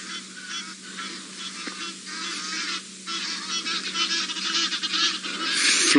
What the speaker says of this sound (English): Flock of Egyptian geese flying over us.